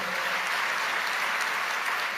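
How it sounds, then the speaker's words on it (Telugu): A congregation at a church sermon claps together, a dense, sustained burst of applause filling the whole moment with no speech over it. "చప్పట్లు కొట్టి దేవుని మహింపరుద్దాం"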